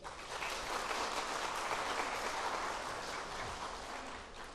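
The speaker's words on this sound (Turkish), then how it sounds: "Alkışlarınızla." Dense, sustained applause fills a hall as a Turkish classical music conservatory ensemble is welcomed to the stage, a broad even wash of many hands clapping that eases slightly toward the end.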